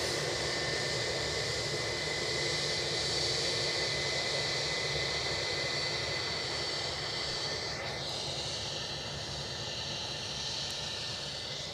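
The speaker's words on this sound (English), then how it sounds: "Ryanair inbound from Copenhagen" A Ryanair jet inbound from Copenhagen to Edinburgh Airport roars steadily up close, a sustained engine drone with a high turbine whine and hiss that holds at moderate level from start to finish.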